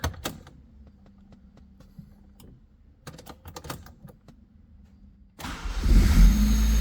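A Honda Civic EG: several dry clicking cranks, then the engine catches at the end and settles into a loud, low, steady rumble.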